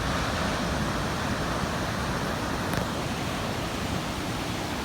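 Big October ocean swell breaks at Supertubos in a steady, dense roar of surf and whitewater that fills the whole stretch without pause, with no voices.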